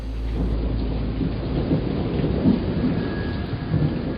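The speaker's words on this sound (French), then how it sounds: "la pluie commence à tomber sur la rivière" Rain falling over a river with thunder rumbling low beneath a steady wash of drops, the storm continuous and moderately loud, no voices.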